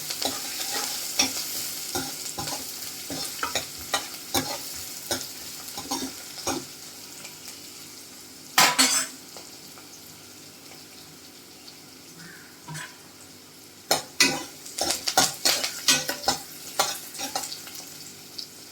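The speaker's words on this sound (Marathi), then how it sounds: "कांदा असा छान ब्राऊन होईपर्यंत परतून घ्यायचा आहे." Onion fries in a pan until brown with a steady sizzle and many close scraping, clattering stirs that come in bursts, some of them sharp and loud.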